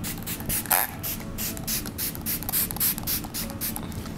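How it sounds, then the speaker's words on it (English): Smashbox Photo Finish primer water face mist sprayed in short hissing bursts, several quick spritzes in a row at close range with no talking. "I'm gonna go ahead and use my classic Smashbox primer water for"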